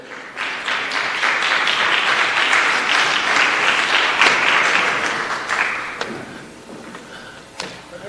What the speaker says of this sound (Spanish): Los invito acompañados por un aplauso, por favor.